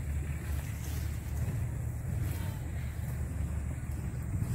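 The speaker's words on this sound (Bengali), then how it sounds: "জল কি সুন্দর যাচ্ছে, দেখো প্রত্যেকটা মাঠে কিন্তু চলে যাচ্ছে, কত স্পিডে যাচ্ছে" Irrigation water rushes steadily through channels in a village field of mustard flowers, a continuous low churning flow mixed with wind buffeting the microphone outdoors.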